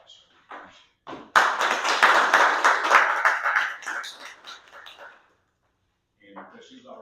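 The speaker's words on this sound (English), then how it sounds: "if you would join me in giving Ms. Delaney a round of applause" Applause for a departing member at a land bank authority board of directors meeting in Augusta, Georgia, a short burst of clapping that swells after a few isolated claps, fades out, and gives way to talk.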